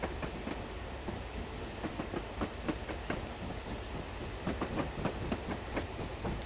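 A Black 5 steam locomotive passes in the Train Simulator video game, its wheels clattering in a steady clickety-clack rhythm over the rails with a faint hiss beneath, moderately loud and without talk.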